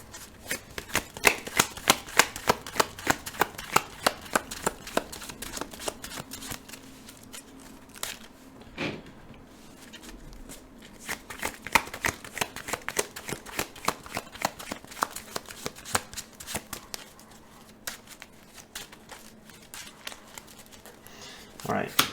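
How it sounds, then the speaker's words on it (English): A deck of game cards is shuffled close up while playing a Captain America versus Ultron card game, with rapid riffling and crisp flicking bursts repeating throughout, some quieter pauses between. "Shuffling Squirrel Girl into our deck."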